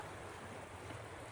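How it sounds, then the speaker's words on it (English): Surf washing onto the beach at Marbella, Spain, a steady low rushing wash of waves, faint and continuous with no voices. "So I am now here at the beach in Chiringuita at Marbella, España."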